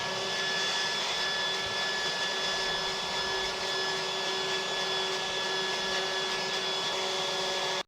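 An air blower runs continuously across a twisted ratchet strap, giving a steady, even rush of air with a faint whine, close and unbroken until it cuts off at the very end.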